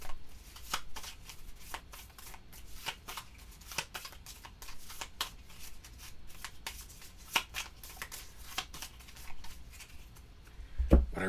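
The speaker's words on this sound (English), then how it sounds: "reveal 1 card at a time until we get to an item" Playing cards are handled and flipped at a solo tabletop game of Sentinels of the Multiverse, giving a series of soft, sharp snaps and slaps at irregular intervals, close and quiet, with no talking.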